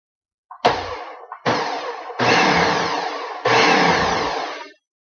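Blender pulsing a cream of broccoli soup base in four short bursts, each a loud steady whir that cuts off cleanly, the last two longer than the first.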